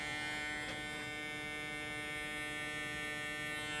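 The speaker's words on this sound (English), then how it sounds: "Now I'm gonna start my clipper." An electric hair clipper runs close by in a barbershop, a faint, steady buzzing hum that holds evenly throughout with no talking.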